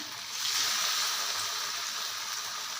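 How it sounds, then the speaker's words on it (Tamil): Snacks frying in hot oil, a continuous bright sizzling hiss that swells after the first half second and holds steady, with no talk. "இப்போ ஒன்று ஒன்றா எடுத்து நம்ம போட்டு பொறிக்க வேண்டியது தான்"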